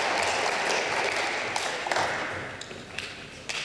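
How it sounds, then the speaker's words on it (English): An audience at an international school literacy celebration in northern Japan claps, a dense wash of applause that gradually fades, with a few sharper taps near the end. "A round of applause for Ji-Yu and Julius."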